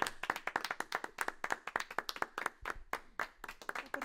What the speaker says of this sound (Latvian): Aplaus visiem.